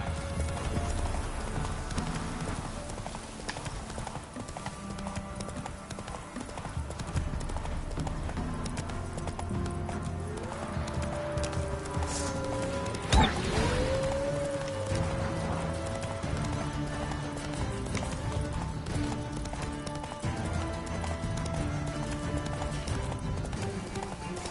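A horse gallops in The Witcher 3, rhythmic hoofbeats running continuously under game music and ambience, with a brief whinny-like sound midway.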